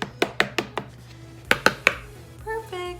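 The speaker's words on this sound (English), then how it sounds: "just kind of give that a stir together, not to be incorporated because we are about to mix it up with the mixer, but I do try to break it up a little bit" Sharp spoon taps against a mixing bowl while stirring and breaking up keto pumpkin cookie ingredients, a quick burst of four knocks, a pause, then three more, ending in a brief scraping clatter.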